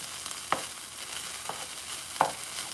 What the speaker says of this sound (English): mixing the vegetables in there like that